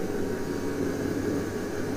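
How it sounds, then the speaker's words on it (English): Steady broadband whoosh of a space heater blowing warm air onto filler along an MDF board edge, constant and fairly loud, close by and alone with no voices. "the noise you can hear is the space heater just drying it"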